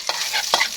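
Onion and garlic fry in hot oil, two quick bursts of close sizzling and stirring in a brief moment.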